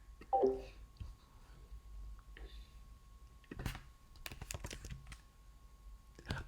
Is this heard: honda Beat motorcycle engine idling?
no